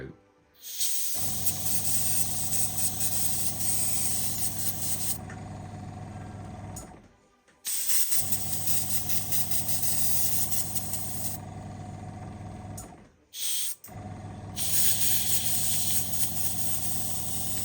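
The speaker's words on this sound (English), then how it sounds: "I'm just gonna have to spray down to it and hold the back because the airbrush obviously needs a bit of a clean here" An airbrush sprays model scenery trees in three long steady hissing bursts, each running several seconds with brief pauses between, close and loud over a low background hum.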